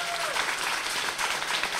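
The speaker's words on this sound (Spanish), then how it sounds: "Muchísimas gracias por los aplausos" An audience at a book presentation fills the room with dense, steady applause that continues throughout the short stretch.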